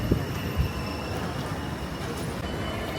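A train arrives at a station on a rail trip toward Berlin Hauptbahnhof, producing a steady, close, low rumble of rolling wheels with a faint high whine above it.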